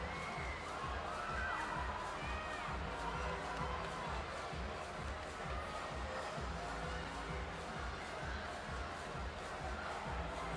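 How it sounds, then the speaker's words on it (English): A large crowd roars and cheers steadily at the CrossFit Torian Pro semifinals as a men's final heat wraps up, making a dense, continuous wall of shouting voices with no break. "roar of this crowd once Jake Douglas's judge's hand goes in the air"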